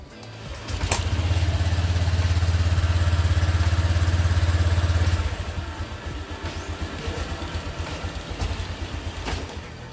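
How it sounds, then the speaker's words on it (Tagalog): A Honda Click 125 scooter engine idles steadily with a low rumble, then abruptly stalls midway, leaving quieter uneven mechanical sputtering afterward. "yun yung issue niya. Namamatay yung makina."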